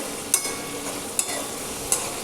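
Ridge gourd sizzles steadily in a hot pan, with three sharp clinks of a utensil against the pan as it is stirred.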